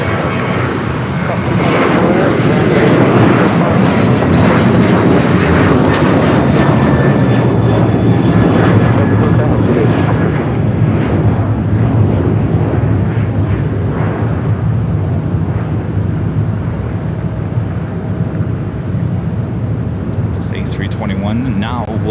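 An Airbus A321neo jet on American flight 824 from Philadelphia roars at LAX, a loud sustained engine noise that swells early and slowly fades as the aircraft passes and recedes.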